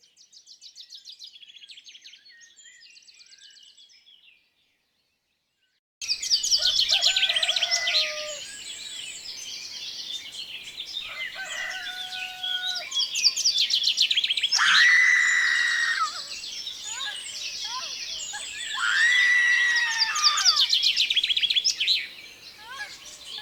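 Birds chirping and singing in a film scene, bright repeated calls and trills after a short gap of silence, fairly loud and close, continuing throughout.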